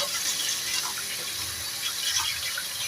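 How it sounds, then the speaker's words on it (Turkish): Rice rinsed under a running kitchen tap makes a steady, close rush of water with soft splashing and swirling throughout. "Şimdi pirinçlerimi iyice yıkayayım ben."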